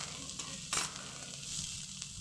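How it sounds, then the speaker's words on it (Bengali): Ginger garlic paste sizzles in hot oil while being stirred into a bot boti (long bean) dish, a close, steady frying hiss with a brief louder scrape of the spoon partway through. "ভাজা ভাজা করে নেওয়ার পর এর মধ্যে দিয়ে দেবো আদা রসুনের পেস্ট"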